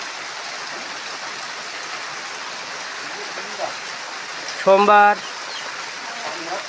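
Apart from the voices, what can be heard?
rain falling in the evening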